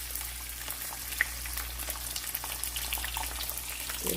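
Bulad, dried lapu-lapu fish, fries in oil with a soft, steady crackling sizzle and scattered pops, quiet and close, with no talking.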